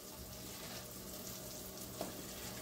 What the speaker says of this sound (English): Teaspoon of garlic. Let that cook for just a minute and get the raw garlic taste out.